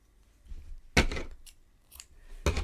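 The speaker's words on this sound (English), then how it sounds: "Cut my yarn." Scissors cut crochet yarn in a couple of sharp close snips, with a softer rustle between them in an otherwise quiet room.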